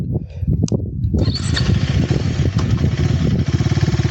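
A 2025 KTM Duke 390 engine cranks briefly and fires up, settling into a loud, close, rapidly pulsing idle, with a voice heard just before it starts.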